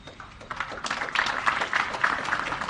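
Audience clapping during a high school exam results announcement, steady applause continuing under and between speech.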